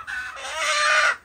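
A rooster on an Egyptian farm lets out a single close, loud, strained cluck-squawk lasting about a second, rising in intensity before it cuts off.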